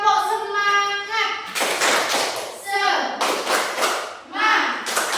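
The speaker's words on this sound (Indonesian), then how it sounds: "Semuanya tepuk semangat." Elementary school children do a rhythmic group cheer-clap in class: short chanted voices alternate with loud bursts of patterned clapping and thumps, several cycles in quick succession.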